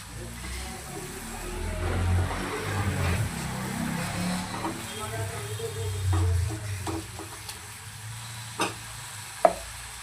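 Onion-tomato masala with coriander leaves being stirred and sautéed in a pan for a dhaba-style brinjal curry, with a steady soft sizzle, scraping spoon strokes and a few sharp clinks near the end.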